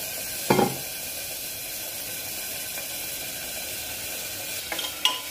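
Chickpea curry sizzles in oil in a village kitchen, a steady frying hiss with a couple of sharp scraping clinks as it is stirred.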